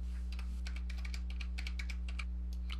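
Typing on a computer keyboard while entering the IP address of an Ethernet module, a quick run of close, distinct key clicks over a steady low electrical hum, with no voices.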